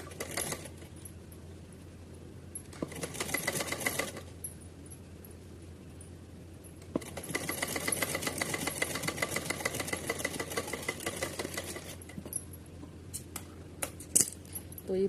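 A sewing machine stitches a straight seam along a folded edge of green fabric for a small deity's dress, running in two sustained bursts with a pause between and lighter clicks and rattles toward the end.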